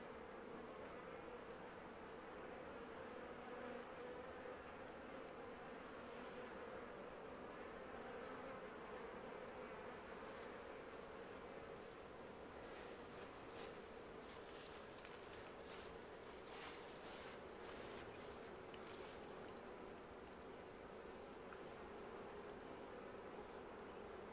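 A swarm of honey bees buzzes continuously at a hive entrance, with some bees fanning, a dense, even drone that stays close and steady throughout, with brief faint rustles but no voices.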